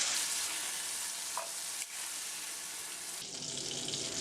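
Continuous close sizzle of turkey berries frying in oil in a pan, with faint stirring movements and a brief soft knock.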